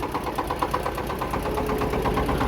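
A Kentavr 240V walk-behind tractor engine runs unevenly on just one cylinder, a steady close mechanical chugging with rapid rhythmic knocking pulses throughout.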